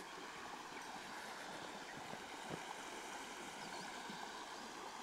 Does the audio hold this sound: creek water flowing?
yes